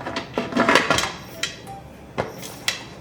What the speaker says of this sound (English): So I'm gonna go ahead and put the lid on